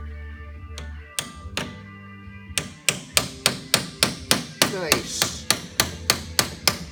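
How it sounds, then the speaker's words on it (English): A hammer strikes an oil filter on a tractor to punch a hole in it: a few scattered hits, then a steady run of about fifteen sharp, ringing metallic blows close by, with a brief spoken word. "I'm gonna hit this thing. Hopefully I can knock a hole in it easily."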